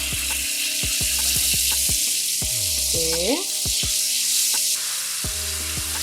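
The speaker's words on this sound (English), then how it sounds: "So add little butter." Butter sizzling in a pan for butter garlic broccoli, a loud steady frying hiss throughout, with a rhythmic mechanical ticking and a brief whine layered over it.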